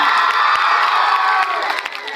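A school audience of children cheering and clapping loudly, a dense sustained roar of high young voices shouting over scattered applause that eases slightly toward the end.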